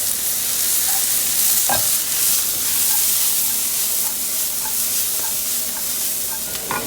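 Sauce sizzling hard in a pan over high heat after a splash of sherry vinegar, a steady loud crackling hiss with a few sharp stirring clicks, no voices.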